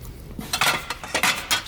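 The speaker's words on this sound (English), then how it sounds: "pots and pans, again, not something we generally deal with" Pots and pans clink and clatter as metal cookware is handled on a table at an antiques auction preview, several sharp bright knocks in quick irregular bursts, close and fairly loud.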